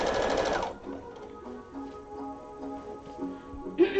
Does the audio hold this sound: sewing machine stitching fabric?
yes